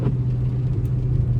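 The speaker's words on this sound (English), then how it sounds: "Who don't wanna see a Chrysler 300 drive in the rain?" A Chrysler 300 SRT8 driving at night in the rain gives off a steady low engine rumble and road noise from inside the car, even and moderately loud throughout, with no voices.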